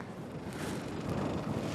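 Steady wind buffeting the microphone in a small boat on the water off northern Haida Gwaii, a low rumbling roar with broadband hiss that holds constant throughout, no voices.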